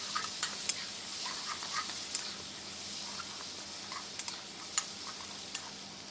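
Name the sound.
stir-frying pounded garlic and chili in oil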